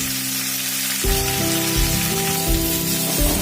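Pieces of bottle gourd hit a hot pan and start a steady, loud hiss of sizzling that carries on unbroken after the vegetable goes in.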